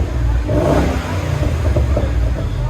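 A 2013 Ford Mustang GT 5.0L V8 with Flowmaster Flow FX exhaust and stock resonators revs and roars steadily up close, a deep throaty exhaust rumbling continuously for a few seconds.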